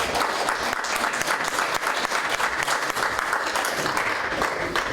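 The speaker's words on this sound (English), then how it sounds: "Right now, please hold your applause." Sustained, even applause from an audience at a village board of trustees meeting, steady clapping without pauses or voices.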